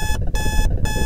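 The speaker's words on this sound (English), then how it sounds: "Ugh, that annoying alarm clock. Time to turn it off." An alarm clock rings loud and close in rapid pulsing bursts, a shrill electronic tone broken by brief gaps.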